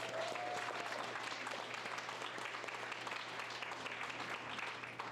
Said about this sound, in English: She's at the door if you guys want to give her a big round of applause